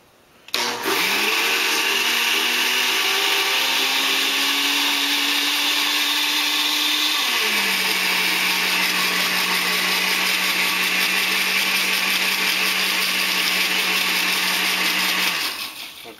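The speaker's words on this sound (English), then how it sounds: "I'm gonna blend this up." A blender whirs loud and steady for about fifteen seconds while blending a sauce for Chaliapin steak don, with its pitch dropping partway through before it shuts off.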